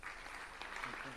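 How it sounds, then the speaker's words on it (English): A short burst of audience clapping at a World Philosophy Day symposium in Tanzania, faint and distant, with a trace of voices toward the end. "I would love you to give him a round of applause once again, please."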